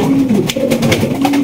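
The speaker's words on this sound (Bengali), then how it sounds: "দেখেন মাশাআল্লাহ হাই কোয়ালিটির বিউটি কবুতর মাত্র 2500 টাকা" Beauty pigeons at a fancy pigeon market coo in low, soft, rolling calls, several overlapping close by with a steady murmur of bird sounds behind them.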